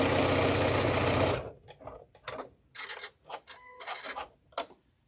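Sewing machine running fast on decorative stitches, a loud steady mechanical whir for over a second, then stopping, followed by scattered softer clicks and short bursts of movement.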